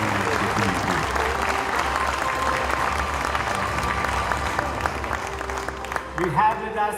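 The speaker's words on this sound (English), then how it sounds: "So you could just give her another round of applause" An awards gala audience gives sustained applause, a dense wash of clapping that holds steady and then thins out near the end, with voices breaking through at the close.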